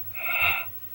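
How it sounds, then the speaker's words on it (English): A person gives a single short, breathy yawn, close and quiet, with no talking. "I start yawning"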